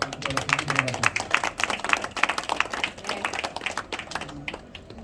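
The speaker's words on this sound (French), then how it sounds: "vous pouvez vous applaudir parce que je pense que c'est ce qui aurait été bon" Crowd applause with many overlapping claps, fairly loud and sustained, with a few voices mixed in before it thins out toward the end.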